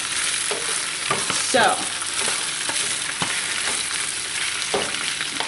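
Fresh spinach sizzling and frying in a pan as it cooks down for a spinach and egg breakfast, with steady close crackle and several stirring scrapes and tosses; a brief word is spoken near the end.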